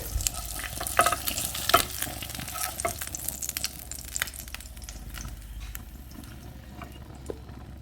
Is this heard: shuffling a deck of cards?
no